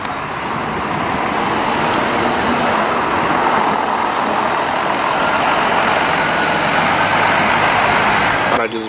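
An old-livery Santa Cruz Scania coach pulls out of the Tietê bus terminal in São Paulo, a loud steady engine drone amid the terminal's traffic noise, heard close and continuous.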